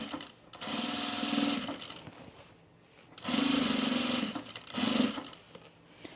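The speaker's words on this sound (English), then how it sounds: "top stitch the entire length of the side seam." A sewing machine top stitches the side seam of chino pants in three bursts of rapid whirring stitching, the first and second longer and the last short, separated by quiet pauses, close and clear.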